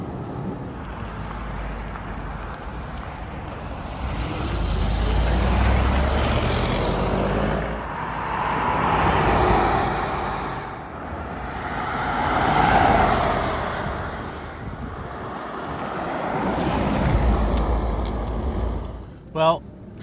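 A 1961 Bentley Continental S2 passes by on a brisk Long Island day, a smooth, quiet whoosh that swells and fades several times amid wind noise, with speech present.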